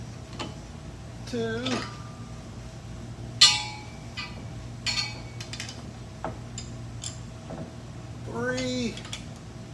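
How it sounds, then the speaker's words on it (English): A wrench tightens U-bolts on a vehicle's rear end during brake and oil leak repair work. A few sharp metallic clicks and clinks sound close by, with someone speaking briefly. "see if we get our U-bolts tight here"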